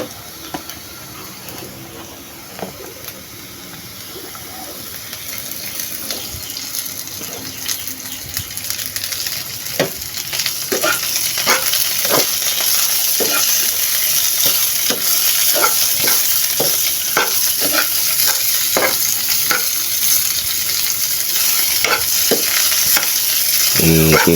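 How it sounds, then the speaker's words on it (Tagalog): String beans (sitaw) sauté in a hot pan at home, giving a continuous sizzling fry marked by repeated scraping and stirring clatter, the sizzle growing louder partway through with no talk. "Igigisa nyo muna yung sitaw."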